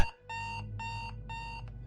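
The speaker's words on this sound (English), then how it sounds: "I woke violently to my alarm precisely when I was supposed to." An alarm clock beeping in three evenly spaced, loud electronic tones over a low background rumble.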